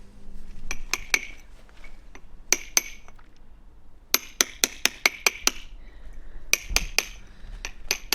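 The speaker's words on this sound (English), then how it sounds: "I might just go over with a lump hammer a little bit" A lump hammer chips the edges of stone for a garden railway, sharp ringing strikes coming in irregular clusters of two to five blows with short pauses, close and loud over a low outdoor background.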